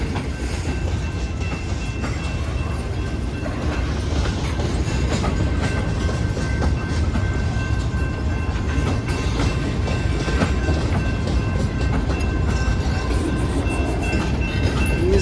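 A slow freight train of boxcars rolls by close at hand, a continuous loud rumble with clickety-clack wheel beats and faint metallic squeal, with no voices over it.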